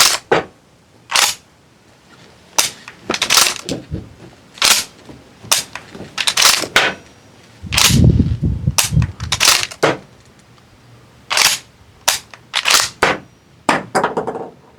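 An air-powered shotgun fires in a series of sharp, loud cracks, interspersed with mechanical clacks and the clatter of spent shells dropping onto a table, with irregular spacing between shots.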